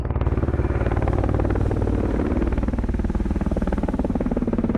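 Anti-submarine helicopter hovering close overhead in the submarine game Cold Waters, a steady loud rotor thump with dense rhythmic chopping and a continuous engine drone that holds throughout without pause.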